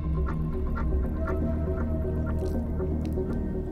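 Water spills over the rim of a brim-full lota vessel in a steady run of close, soft drips and splashes. The trickle is moderately quiet and lasts throughout, with no voices.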